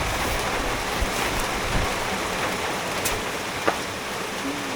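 Steady rain falls outdoors during a downpour, a continuous broadband hiss of water with a few faint knocks and drips scattered through it, and no voices.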